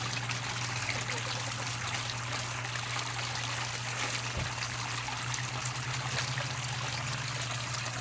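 Water flows steadily through a newly set-up gold prospecting sluice box, a continuous close trickling rush with a low hum beneath and no break throughout.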